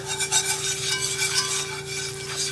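Flour being whisked into hot bacon grease for gravy in a pan, giving a steady close scraping and stirring rasp with a faint sizzle and a constant background hum, no talking.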